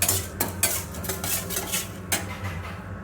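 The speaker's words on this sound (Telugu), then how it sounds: "తెల్ల నువ్వులు వేసుకుంటున్నా." White sesame seeds are stirred into a hot tempering for curry leaf rice, a spoon scraping and clinking against the pan in quick strokes over a soft background.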